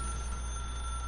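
Telephone ringing in the video game The Stanley Parable: a sustained electronic ring tone, loud and continuous throughout, with no voices.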